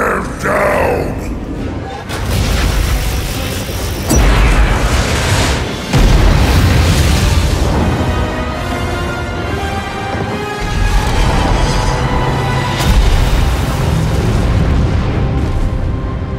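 Heavy booming explosions from Legion cannon fire land repeatedly in a World of Warcraft cinematic. Loud and rumbling, they are mixed with battle grunts, crowd noise and a dramatic score.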